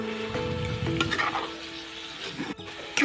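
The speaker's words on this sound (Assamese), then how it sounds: "এতিয়া এয়া মছলাটো অলপ সময় মাংসখিনি ভাজিম" Meat fries in oil with ground spice paste in a pan, giving a close, continuous sizzle with stirring scrapes and clatter.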